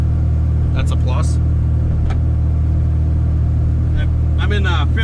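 A K24-swapped Honda Integra cruises in fifth gear, its engine a steady low droning rumble inside the cabin, with someone talking over it.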